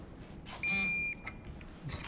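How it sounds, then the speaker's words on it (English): An electronic tool used while fitting coilovers to a cheap Mini car gives a sustained high beep followed by a shorter one, loud and close against a quiet workshop background. "And instead of a click, we have fancy beeps."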